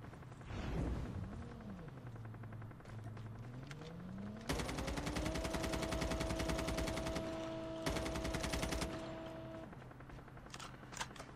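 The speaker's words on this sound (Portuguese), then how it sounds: "Cara, tem tendo muito tiro lá em cima" Automatic gunfire in the mobile shooter Call of Duty: Mobile rattles in a long sustained burst, then a second shorter burst after a brief pause, over engine-like whine and game ambience, with no talking.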